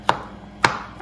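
Two sharp knife chops about half a second apart land on a board while food is roughly chopped for stromboli and spinach pie, close and distinct against a quiet kitchen background.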